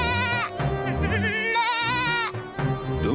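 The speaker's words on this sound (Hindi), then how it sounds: "तुम चाहे जितनी भी मिमिया लो, मैं तुम्हें बाहर नहीं निकालने वाला।" A goat bleats repeatedly and loudly in a wavering, drawn-out cry, shivering from the cold indoors, with short pauses between calls and no talk over it.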